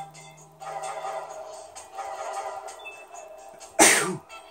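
A single sharp, loud sneeze bursts out near the end after quiet background murmur, during a Wario Land: Shake It! game session.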